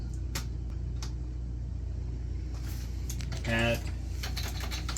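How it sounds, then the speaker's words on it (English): Keys clatter on a computer keyboard in quick, uneven taps over a low steady hum, with a brief tonal sound partway through. "I can spend all day typing prompts into Dall-E 2"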